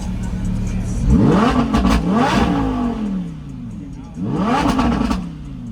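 A C8 Corvette engine revs hard twice, each rev climbing quickly in pitch and dropping back, loud and close with a raspy edge.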